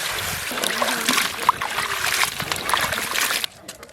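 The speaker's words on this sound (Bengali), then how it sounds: "ফুলকপিগুলো ভালো করে ধুয়ে নেবো।" Cauliflower florets being washed by hand in water, with steady splashing and sloshing close by that stops abruptly near the end.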